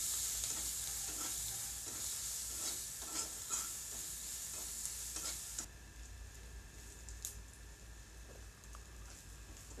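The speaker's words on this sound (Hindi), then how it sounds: "लहसुन को अच्छा तरह भून लेता हूँ।" Crushed garlic frying in a pan of hot oil with mustard seeds and green chilies, stirred with steady scraping strokes over a constant close sizzle; the stirring stops partway and the sizzle carries on alone.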